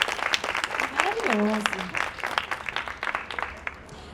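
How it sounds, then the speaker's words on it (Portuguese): Audience applause at a Black culture festival talk, a broad wash of many clapping hands that runs throughout, with a voice speaking briefly over it. "Vamos bater mais palmas?"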